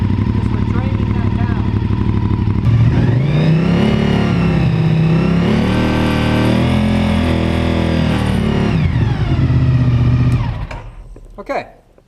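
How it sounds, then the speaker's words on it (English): A motorcycle engine cranks and fires up, then runs and revs loudly with shifting pitch for several seconds before shutting off and dying away near the end, during a charging-system test with a draining battery. "We'll fire up the bike."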